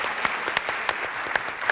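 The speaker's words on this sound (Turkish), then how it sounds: "Alkış yapalım" A studio audience on a 1997 Turkish TV variety show claps in a continuous patter, with a few sharper claps standing out above the steady applause.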